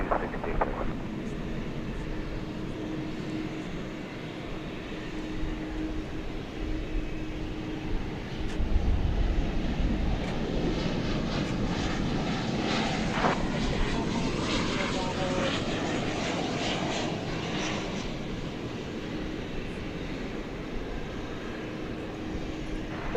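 An American Airlines jet landing on runway 18 right at DFW Airport at night, a broad distant engine roar swelling and holding as the plane comes in, with radio chatter and voices over it.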